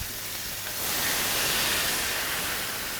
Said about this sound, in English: So I'm going to stand back because there's going to be a sizzle.